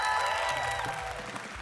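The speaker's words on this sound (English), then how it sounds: "I want to hear you cheer for your host here today, Sam from Ristic Studies." Convention audience at a Magic: The Gathering panel in Amsterdam applauding and cheering loudly for the host, a dense wash of clapping filling the hall throughout.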